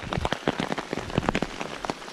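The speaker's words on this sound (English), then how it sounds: "So the rain has come in a bit today" Rain pattering steadily on umbrellas held by hikers on the Bibbulmun Track between Pemberton and Northcliffe, a dense patter of close, irregular drops with no talk.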